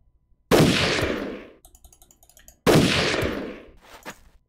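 Gunfire from the Jagged Alliance 2 video game: two loud, sharp bursts a couple of seconds apart, each decaying quickly, with faint clicking in between and no talk.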